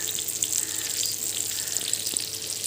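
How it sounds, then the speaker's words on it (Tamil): Fish fries in hot oil with curry leaves, giving a steady, close, continuous sizzle with no voices. "மீன் பொரியல் போயிட்டு இருக்குது."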